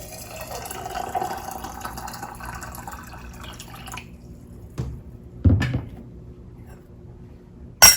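Hot water pours steadily into a jar of chickpeas for a few seconds, then stops, followed by quiet pauses and a couple of short clinks and splashes.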